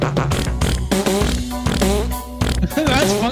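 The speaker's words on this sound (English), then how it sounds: "Go back and watch the fart samples in the keyboard." Fart sound samples triggered on a keyboard, a rapid series of short buzzy blasts with sliding pitch in quick succession, loud and close, with voices talking over them.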